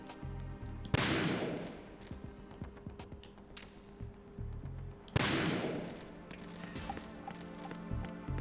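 Gun cameras firing in Metal Gear Solid 2, two sharp loud bursts of gunfire about four seconds apart, each trailing off into rattling reverberant decay amid ambient game hum.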